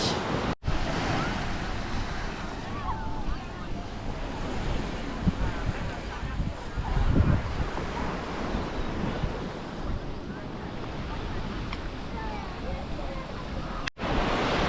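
Steady surf and wind roll across Siesta Key beach on the Florida Gulf coast, a broad continuous wash close by with brief microphone wind thumps near the start and end.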